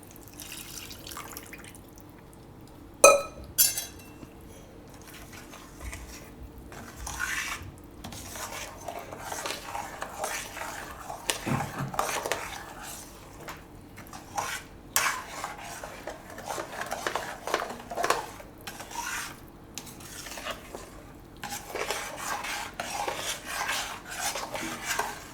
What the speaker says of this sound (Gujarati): આ રીતે બધું મિક્સ કરી લેવાનું